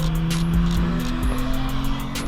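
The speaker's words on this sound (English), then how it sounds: "We got the blue NSX coming around with the cop car behind him." Blue Acura/Honda NSX supercar driving fast past, with a steady loud engine drone throughout and brief tire noise, a police car following behind.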